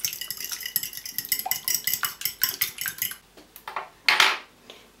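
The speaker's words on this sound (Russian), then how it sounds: "Взбиваем вот так вот вилочкой" Fork whisking a raw egg with half a teaspoon of salt in a bowl, giving rapid rhythmic clinks and scrapes against the bowl's side, close and steady, ending with a few louder taps.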